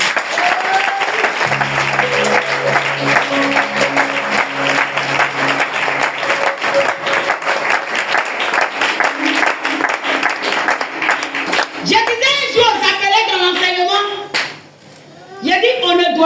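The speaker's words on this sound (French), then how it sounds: "Est-ce que quelqu'un peut acclamer Jésus?" A church congregation at a vigil applauds and cheers for Jesus, dense sustained clapping with voices and shouts mixed in, then excited chatter and calls after the clapping fades.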